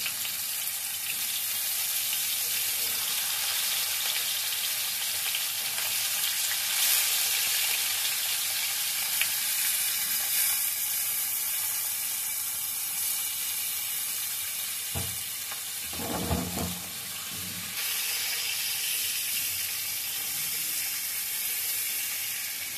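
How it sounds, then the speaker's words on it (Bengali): Fish frying in hot oil, a continuous loud hiss and crackle of sizzling, with a few brief clattering stirs near the end. "মাছটা ভেজে নেব"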